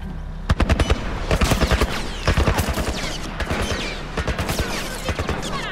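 Loud military gunfire in The Last of Us, rapid repeated automatic bursts in quick rhythmic volleys continuing throughout, with no talk.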